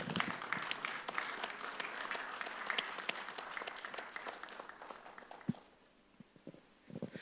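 An indoor audience at a teaching centre launch event claps in a dense, sustained round of applause that thins out toward the end, leaving a few scattered claps and shuffling.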